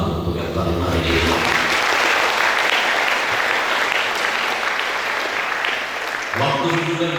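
Sustained, loud applause from an audience at a spiritual motivation talk by a speaker, steady throughout with brief tonal voice or music traces at the start and end.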